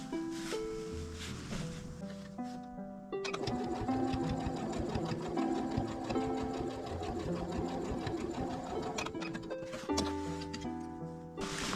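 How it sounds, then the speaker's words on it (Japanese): Steady mechanical whirring of a sewing machine stitching fabric closed, running continuously and close with a brief pause, with a few soft clicks and no talking. "この返し口を縫い合わせます。"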